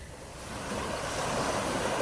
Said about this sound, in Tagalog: Maganda naman ang aura ng dagat mga kapain. Medyo may alon-alon ng konti.